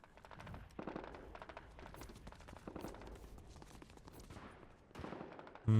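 A Fortnite firefight with bursts of rapid gunfire and scattered single shots, moderately loud and somewhat distant, with faint running footsteps between volleys and no talking.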